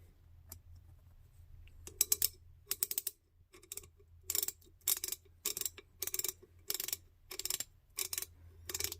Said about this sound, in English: Let's switch the lever.